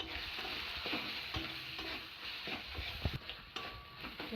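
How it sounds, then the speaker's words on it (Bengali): Spices frying in oil as a curry gravy for jackfruit-seed paneer is stirred, a steady close sizzle with soft scraping strokes and a few light clinks, no voices. "মশলা দিয়ে তেল ছেড়ে গেছে, দেখুন কি সুন্দর গ্রেভিটা।"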